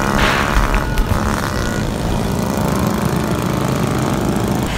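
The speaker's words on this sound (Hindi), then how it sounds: "यहाँ पे गाड़ियों के सिलेंसर्स और बाइक के सिलेंसर्स की आवाज़ आपको सुनने को मिल रही है" Car and motorbike exhausts roar continuously on a busy road during a 14 August Independence Day celebration at F-9 Park, Islamabad, a dense, loud engine din with no break.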